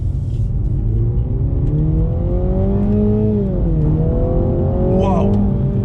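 A 2021 Mini Cooper JCW GP3 with a manual gearbox accelerates hard, its engine note climbing steadily then dipping briefly at a shift before rising again, loud and close throughout with someone talking over it.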